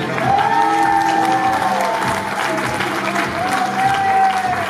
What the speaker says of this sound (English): Make it loud for Bailey and Jeremy